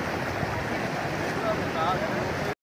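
Floodwater about two feet deep flowing across a road in a village in Punjab, a steady, fairly loud rushing wash with faint background voices.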